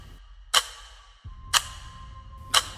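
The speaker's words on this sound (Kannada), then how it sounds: "ಗಡಿಯಾರ ಜೋರಾಗಿ ಶಬ್ದ ಮಾಡೋಕ್ಕೆ ಶುರು ಮಾಡುತ್ತೆ" A clock ticks loudly at midnight in a horror story, three sharp, evenly spaced ticks about one second apart over a faint steady hum, with nothing else heard.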